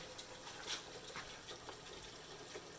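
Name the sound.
water running to melt toffee off a pan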